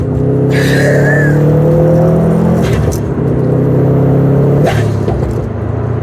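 Subaru STI, a tuned Throtl build, revs hard and accelerates on a twisty road, its engine drone rising in pitch, shifting, then climbing again, loud and close throughout.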